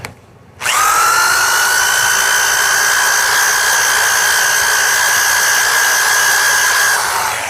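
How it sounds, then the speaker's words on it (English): A heavy-duty electric drill spins a flap wheel, kicking on with a sharp start and then holding a loud, steady high-pitched whine with a faint harmonic drift for about seven seconds before easing off, with no voices. "I mounted the flap wheel in a heavy-duty drill."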